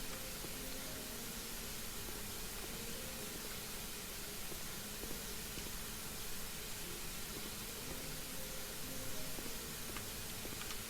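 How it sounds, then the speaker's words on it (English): Spray painting a house exterior in the House Flipper video game, a steady, even hiss of the paint sprayer running continuously at low volume with no pauses. "let's start spraying the outside"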